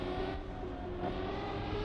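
A car in the racing game Trackmania, fitted with a loud skin, drones steadily with a high, buzzy engine tone held at constant pitch for about two seconds, with no voices.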